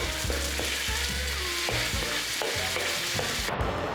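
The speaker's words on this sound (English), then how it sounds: "fry the meat in high heat until it reaches this attractive color" Beef frying over high heat in a pan, a loud continuous sizzle with rhythmic stirring and scraping close by, no voices.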